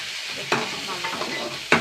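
Coconut pieces and curry leaves roasting in a pan, a soft continuous sizzle with two sharp scraping stirs, no voices.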